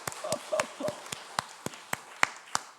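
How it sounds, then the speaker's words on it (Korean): Clapping from a church congregation comes as a short burst of sharp, separate claps that thin out into a few spaced ones, over a quiet room. "와, 한번 박수할까요?"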